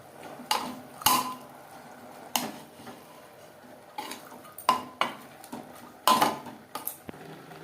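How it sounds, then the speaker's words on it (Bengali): Mutton stirred with onion and tomato in a pan: a metal spatula scrapes and clanks against the pan in irregular close strokes over a soft sizzle, with no talking. "পেঁয়াজ টমেটোর সাথে মাংস বেশ ভালো করে মিক্সড করে দেবো।"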